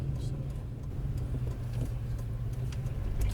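A Toyota Land Cruiser project car makes a steady, low engine rumble as the gas is released, with faint voices in the background throughout.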